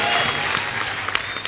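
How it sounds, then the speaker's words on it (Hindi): Studio audience on The Kapil Sharma Show, a comedy talk show, breaking into loud, dense applause that fills the whole moment, with faint voices mixed underneath. "जोक सपाट भूमि का जोरदार तालियों से स्वागत करिए"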